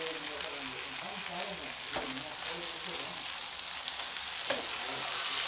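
Lightly boiled spinach hits a hot pan for a winter mixed-vegetable sabzi and gives off a steady, fairly quiet sizzle. The frying hiss runs evenly throughout, with a faint clack or two of stirring and no voices.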